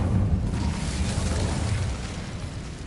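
Fire spell Incendio cast in the game Hogwarts Legacy, a loud whooshing roar of flame that swells at once and rushes steadily on for about three seconds, slowly easing, with no talk.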